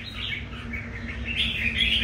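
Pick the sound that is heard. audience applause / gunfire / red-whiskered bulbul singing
red-whiskered bulbul singing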